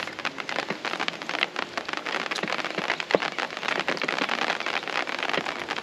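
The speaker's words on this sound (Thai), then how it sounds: "มีฝนตกนะครับรรยากาศฟินสุดๆ" Steady rain pattering on a reservoir's water, a dense continuous hiss dotted with individual drops, with no voices.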